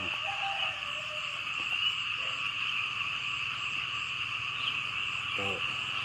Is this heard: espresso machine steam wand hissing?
no